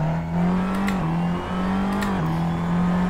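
A car engine in the Assetto Corsa racing game drones at a steady mid pitch, briefly dipping and rising again as it revs, loud and continuous with no talk.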